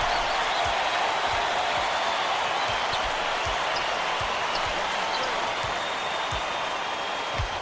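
An arena crowd roars steadily in College Basketball 2K8, a constant wash of cheering with a basketball dribbling in regular bounces beneath it.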